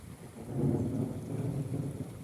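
Thunder after a lightning flash over open fields in Italy, a low distant rumble that swells and then fades over about two seconds, with nothing else heard.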